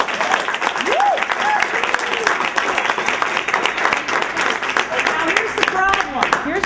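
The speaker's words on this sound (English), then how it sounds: "give us a round of applause" Audience applause at a talk on electing women to office, sustained and dense across the whole stretch, a broad wash of clapping with a few whoops and cheers rising out of the crowd.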